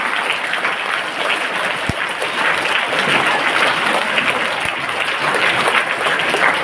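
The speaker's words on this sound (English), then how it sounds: "Let's give a big round of applause for him." A steady wash of audience applause welcoming a guest of honour at a formal event, dense and continuous across the whole stretch at fairly close range, with no voices on top.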